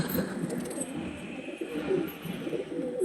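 Pigeons kept as breeding stock coo softly in low, throaty murmurs, several birds overlapping in a steady, continuous bed of sound close by, with no talking.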